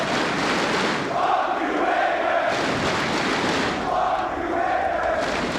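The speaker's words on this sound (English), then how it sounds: "And the crowd have adapted a new favorite chant." A large esports arena crowd chants in unison during a Counter-Strike grand final between G2 and Vitality at IEM Dallas, a loud roaring rhythmic chant that rises and falls in waves.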